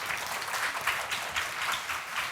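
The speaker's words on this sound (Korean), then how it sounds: "하나님께 영광의 박수" A church congregation claps during an intergenerational worship service, giving fairly soft, steady applause spread through the room that continues evenly throughout.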